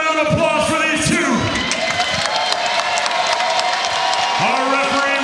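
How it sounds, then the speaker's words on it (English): Arena crowd at a bare knuckle boxing event applauding and cheering loudly and steadily for two fighters after the bout, with whoops and shouting voices mixed into the sustained clapping. "Ladies and gentlemen, another round of applause for these two."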